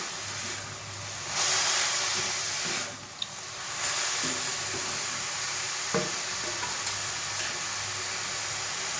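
Ash gourd and green peas simmer uncovered in a pan while the last of the water boils off. The hiss is steady and soft, broken by a few faint clicks and light stirring sounds.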